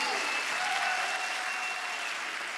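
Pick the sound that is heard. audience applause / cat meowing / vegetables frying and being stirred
audience applause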